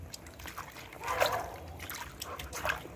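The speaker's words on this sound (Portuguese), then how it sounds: "É uma lavagem simples, apenas com água." A dried loofah sponge is washed in plain water. Soft, close sloshes and trickles rise and fall in a few irregular bursts, quiet and without speech.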